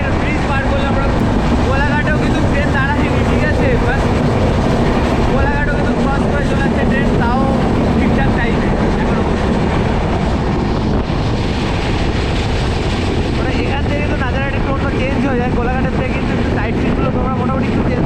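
The Dhauli Express from Shalimar to Puri runs nonstop at over 100 km/h, a loud, continuous rushing roar of wind and rumbling wheels heard from inside the train, steady throughout with no break.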